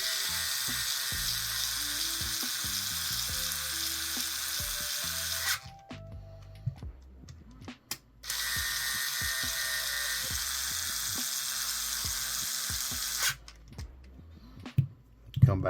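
A power driver runs screws into a DX44 portal wide rear axle assembly in two long whirring bursts, each several seconds, separated by a pause with faint handling clicks; close and steady, with no talking.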